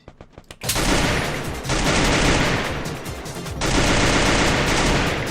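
Loud, dense bursts of rapid gunfire from the Free Fire shooting game, opening after a brief quiet moment and continuing as two long volleys separated by a short break.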